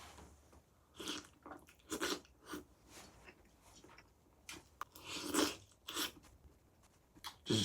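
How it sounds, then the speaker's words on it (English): Someone bites and chews tough, very lean food, producing a series of irregular close crunching and squishy mastication bursts with short pauses between them, no talking. "This requires a lot of chewing."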